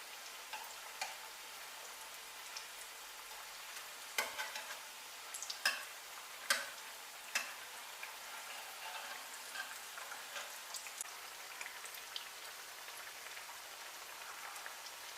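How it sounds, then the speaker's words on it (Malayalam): Chicken cutlets fry in a pan with a steady, faint crackle and sizzle. Scattered louder pops and ticks stand out over the soft spattering, and no one speaks. "കട്ട്ലേറ്റൊക്കെ നന്നായിട്ട് മൂത്ത് വരുന്നുണ്ട്."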